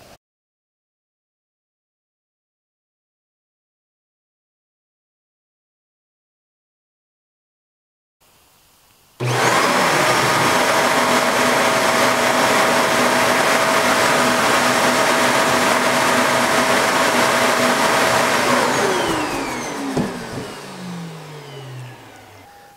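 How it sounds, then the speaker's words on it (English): A bagless vacuum cleaner switches on after near silence and runs loudly and steadily with a high whine, then winds down toward the end. "Now let's try it with another bagless vacuum"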